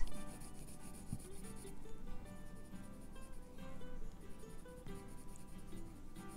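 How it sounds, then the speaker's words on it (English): Holbein Artist colored pencils colouring in on paper, a steady close rubbing and scratching of pencil strokes that goes on with little pause throughout. "So I'm just going to color it all in."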